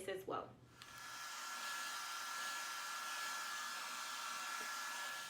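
A hair dryer blowing on natural hair, starting after a few brief handling bumps and then running as a steady, continuous whoosh with a faint whine, moderately loud and alone without talk.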